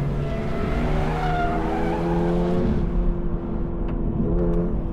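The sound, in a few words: Toyota GR86 rear sliding out under acceleration, tire squeal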